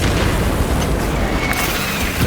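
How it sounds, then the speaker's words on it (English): Crack grenade explosion from the Warhammer 40K Space Marine video game: a loud, dense roar of blast noise that fills the whole moment with no pause. "Xenos spotted. Using crack grenade."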